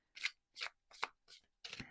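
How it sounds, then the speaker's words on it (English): Light Seers tarot cards being shuffled by hand in five separate bursts of crisp riffling, each about a quarter second long, close and fairly quiet with brief silences between. "Having a hard time shuffling today."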